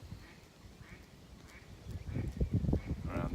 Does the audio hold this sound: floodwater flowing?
no